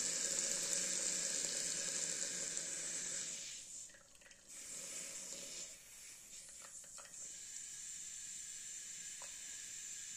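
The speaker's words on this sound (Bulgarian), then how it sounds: "от него излиза много въздух." Air and water escape from the bleed valve of the highest radiator in a central heating system fed by a water-jacketed fireplace, a loud, close, sputtering hiss that drops and falters midway, then settles into a quieter hiss.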